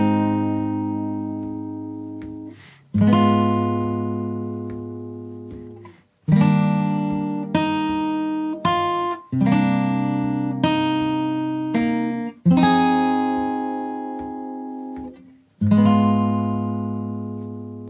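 Guitar playing the chorus of a song, a sequence of close, clearly ringing strummed chords, each sustained and fading before the next, with a few picked notes between and no voices.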